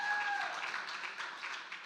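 Audience applause at a summit opening session in Miami, a dense wash of clapping from a large crowd that carries steadily through the whole moment, with a brief tone at the start.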